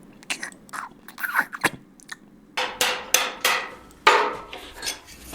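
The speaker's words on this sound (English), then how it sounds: "clamp the jigsaw's base plate in the Miami vise to straighten it out with a sledgehammer" A sledgehammer strikes a jigsaw's metal base plate clamped in a vise, giving a series of sharp metallic hits, irregular at first and then several loud, closely spaced blows, close by with no talk.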